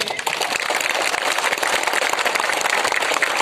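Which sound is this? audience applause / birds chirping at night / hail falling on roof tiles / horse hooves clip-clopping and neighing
audience applause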